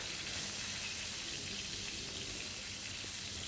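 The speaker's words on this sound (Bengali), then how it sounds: "এখন হালকা করে দুটো সাইডে ভেজে নেব, খুব বেশি ডিপ ফ্রাই করব না" Fish frying in oil gives a continuous, even hiss that fills the whole stretch, steady and moderately loud with no voices.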